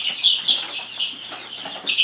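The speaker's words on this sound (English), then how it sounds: "we've got the last of our baby chicks here" Baby chicks in an indoor brooder chirp in high, thin peeps, several short calls close by over a quiet background.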